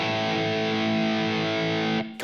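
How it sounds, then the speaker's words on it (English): A sustained, buzzing overdriven electric guitar chord rings out loudly, then cuts off abruptly near the end. "I've got a driven sound on the amplifier."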